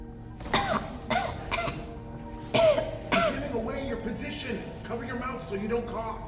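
Coughing and throat clearing in the video game Half-Life: Alyx, a few sharp, close coughs in separate bursts with quieter rasping between them over a low ambient hum.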